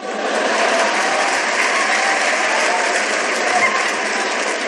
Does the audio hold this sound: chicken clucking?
no